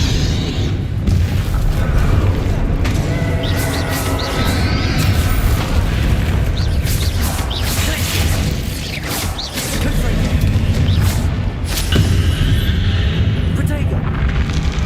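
Loud spell blasts and explosions from combat in Hogwarts Legacy, booming bursts following one another almost continuously, with a voice calling out spell names over the din.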